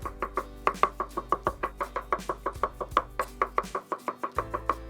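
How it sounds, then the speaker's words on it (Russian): Brown champignon mushrooms sliced into thin pieces with a knife on a board: a quick, regular run of crisp, close knocks, about four or five per second, with no talk. "И также пластинками порежу шампиньоны."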